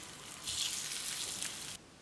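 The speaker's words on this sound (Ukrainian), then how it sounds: "Додаю нову олійку і обсмажую наступні шматочки." Karaage chicken pieces frying in fresh oil, a bright steady sizzle that swells up suddenly, holds for over a second close by, then cuts back to a faint hiss.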